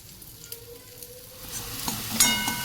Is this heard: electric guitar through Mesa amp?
no